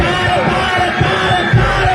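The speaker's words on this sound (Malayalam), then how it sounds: "ഒന്നുകൂടെ കയ്യടി" Dense crowd noise at a Kerala tug-of-war (vadamvali) match: loud, continuous cheering and clapping with a steady roar and scattered shouts, plus a commentator's voice over the top.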